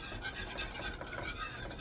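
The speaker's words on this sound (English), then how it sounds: "keep working the gravy, whisk out all the clumps" Milk gravy for biscuits and gravy is whisked in a pan over low heat, giving continuous rasping, scraping strokes of a whisk against the metal in a quick, even rhythm, close and moderately loud, with no talking.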